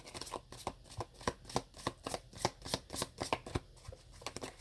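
A deck of love oracle cards is shuffled by hand, a quick run of rhythmic riffling snaps and flutters repeating steadily, close and fairly quiet, with no talking.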